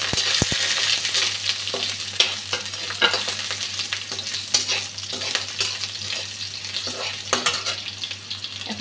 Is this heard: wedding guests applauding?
no